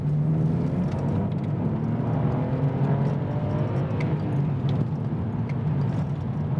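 BMW 630i E63 coupe with the N52 straight-six and manual gearbox accelerating on the road, a steady engine drone with rising harmonic sweeps as revs climb, heard from inside the cabin with no talking.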